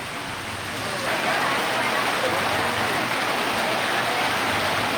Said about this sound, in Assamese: ৰাজ্যৰ বিভিন্ন প্ৰান্তত এই মুহূৰ্তত বৰষুণ আহিছে।